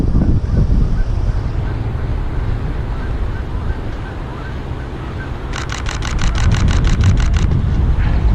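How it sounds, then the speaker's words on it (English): A flock of geese honks several times as they fly over a conservation area, a quick run of calls heard over steady wind and low rumbling background noise. "there was a bunch of geese flying over there"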